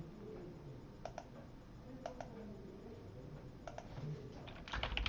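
Close keystrokes patter on a computer keyboard in quick clusters while a search term is typed. The typing sits over a steady low background hum, with a pigeon or dove cooing faintly, and no voices.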